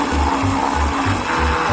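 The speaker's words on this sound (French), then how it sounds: "Je vais mixer le tout." A kitchen blender whirs through vanilla ice cream, butter and cheese, its motor pulsing in a steady rhythm of short, even bursts, loud and close.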